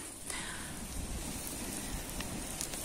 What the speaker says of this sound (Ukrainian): Дощ все сильніше і сильніше.